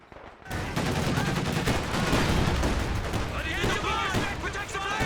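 Gunfire from the strategy game Company of Heroes 2 in a 2v2 match comes as dense, continuous volleys of rifle and machine-gun shots with booming impacts, loud and layered. A voice talks partly over the battle.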